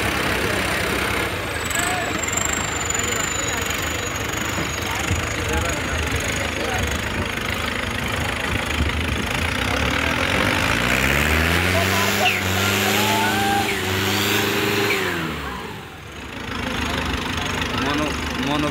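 A Massey Ferguson 595 Turbo tractor engine runs steadily at idle, with a rising and falling rev around the middle, loud and close, while people talk over it.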